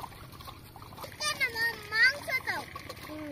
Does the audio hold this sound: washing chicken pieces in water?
yes